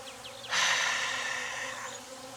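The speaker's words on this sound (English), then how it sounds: "the bees are crawling on them, not ignoring them" Honeybees buzz busily around and over queen cages, a dense steady drone that swells suddenly into a loud close hum and holds, with faint wingbeat whines before it.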